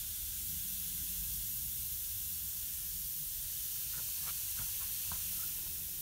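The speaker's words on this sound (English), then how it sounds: "Fizzing over there for a second." Fizzy lava fizzing, a broad, steady hiss like spraying steam that continues throughout, with a few faint crackles near the end.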